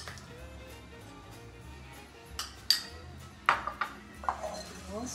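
Green chocolate being stirred into popcorn in a bowl, giving a series of clinks and scraping taps from a utensil against the dish, sparse at first and then more frequent, fairly close with a faint background hum.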